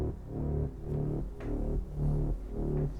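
A low synth drone note pulses with a ducking effect, swelling and dipping in a steady rhythmic wave about every half second, alone and moderately loud.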